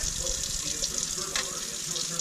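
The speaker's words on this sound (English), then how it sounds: "I just wanna rinse it off. I use very hot water," Hot water runs steadily from a tap into a sink as parts of a Rainbow E2 vacuum motor are rinsed, a continuous close hiss and splash with one brief louder gush partway through.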